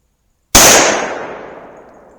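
A single sharp, loud shot from a Glock 23 pistol fitted with a 4-inch .357 SIG barrel, cracking abruptly after a moment of silence and then ringing out in a long decaying echo.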